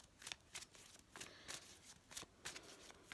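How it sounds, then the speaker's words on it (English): Tarot cards are shuffled by hand during a career and finance reading, giving quiet, rhythmic riffling bursts that repeat roughly every half second, close and soft with no talk. "I'm going to give you a little shuffle"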